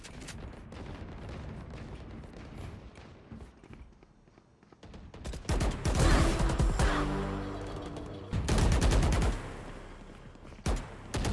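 Video game gunfire from a new ORA character skin, starting as scattered light shots and then building into loud, dense bursts of rapid fire with brief pauses between volleys.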